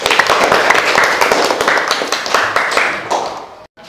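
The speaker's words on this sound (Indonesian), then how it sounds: "kasih aplaus dengan Alifia" A classroom of students claps for a student, a burst of dense, many-handed applause that runs steadily for a few seconds before thinning out and stopping abruptly.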